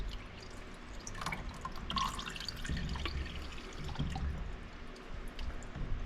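Oil dripping and trickling from the drain of a Lotus Emira 3.5L V6 engine, a quiet, irregular patter of drops close by with no talking.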